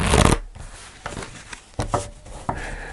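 Tarot cards shuffled and drawn, opening with a loud dense riffle burst, then a few softer separate card slaps and slides, close up and with no talking.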